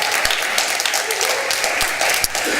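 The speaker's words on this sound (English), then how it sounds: "Let's give them a round of applause." An audience at a worship and missions night applauds steadily and loudly, a dense wash of clapping that continues throughout with no pause.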